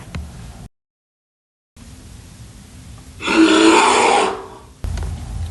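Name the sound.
bear growl imitated by reader in story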